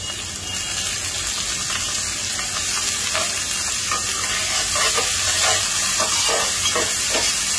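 Lentils and chopped onion fry in mustard oil, giving a continuous close crackling sizzle; toward the end a run of quick scraping stirs cuts through, and no one speaks.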